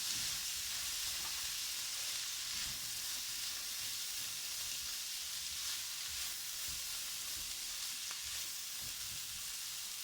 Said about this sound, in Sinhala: ඊට පස්සේ mung bean sprouts ටික දානවා. ඊට පස්සේ ඒකත් හොඳට කලවම් කරනවා.